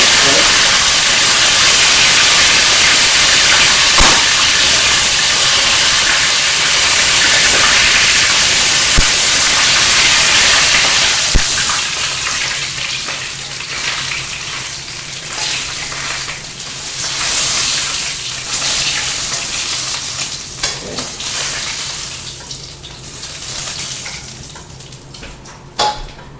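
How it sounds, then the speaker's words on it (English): Chicken skin fries until crispy in a quick fry, giving a loud, steady, broad hiss and sizzle that eases a little partway through, with a few faint clicks and a voice talking at times. "It's a quick fry."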